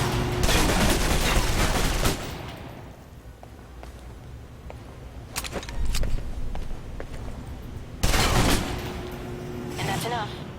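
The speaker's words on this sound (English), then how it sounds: "If you're trapped in close quarters with multiple opponents, the SMGs can help clear the room quickly." Submachine gun fire from the Alpha Protocol video game comes in loud rapid bursts, with a long burst at the start, scattered single shots in the middle and another burst near the end, while someone talks over it.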